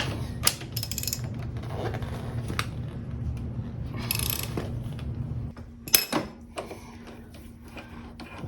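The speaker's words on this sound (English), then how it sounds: "I think I've got it loose enough now I can" A hand ratchet clicks in short bursts while backing out a bolt on the rear shock of a BMW R1200RS motorcycle, close by with metallic rattles and a sharper clank near the end; no one speaks.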